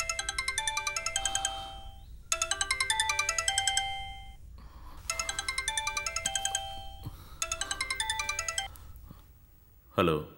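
A mobile phone rings with a bright, repeating melodic ringtone in four clear bursts separated by short pauses, fairly close, with a brief louder sound at the very end.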